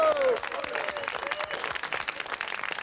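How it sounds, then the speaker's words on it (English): Studio audience applause, a dense wash of many hands clapping at steady volume for a few seconds after a brief voice at the start, continuing without break. "I think that's worth a round of applause, don't you?"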